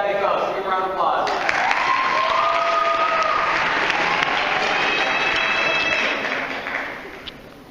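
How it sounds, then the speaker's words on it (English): An audience at a high school benefit concert applauds loudly and steadily, with cheers and a whistle mixed in and voices under the clapping, before the noise tapers off near the end. "So give a round of applause."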